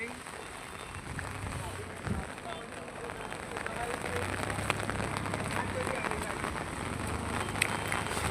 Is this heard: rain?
yes